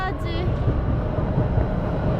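A Budapest metro train rumbles at a station near Batthyány tér at night, a steady, close, low roar with a brief squeal at the start and some voices faintly mixed in.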